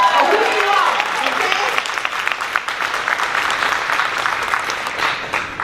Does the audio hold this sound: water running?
no